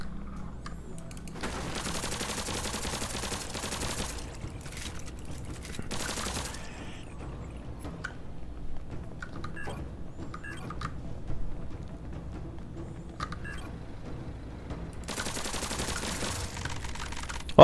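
Bursts of rapid gunfire from the zombie-themed video game Zombotron, several dense volleys separated by quieter stretches of scattered shots and clicks over a steady game background, no talking.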